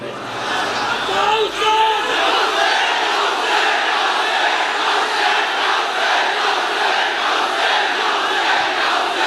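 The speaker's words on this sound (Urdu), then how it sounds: "پوری گلی سے لے کر یہاں تک یا حسین کے نعرے لگ رہے ہوں۔" A dense, loud crowd chants Ya Hussain slogans in a street gathering at a religious speech, voices massed together in a continuous roar that holds steady throughout.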